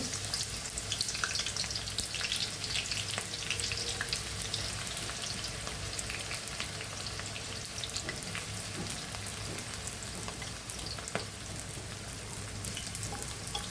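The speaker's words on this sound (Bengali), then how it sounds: "এখন আমি পেঁয়াজ কুচি দিয়ে দেব" Chopped onions fry in hot oil with bay leaves for a fish dish, giving a continuous crackling sizzle with occasional stirring, steady and fairly quiet, with no talking.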